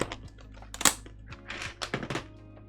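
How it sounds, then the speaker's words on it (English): Keycaps popping off a Vertex Seal full-size keyboard, a quick series of close, light plastic clicks and taps in irregular rhythm, one sharper snap standing out among them. "Pop the keycaps away."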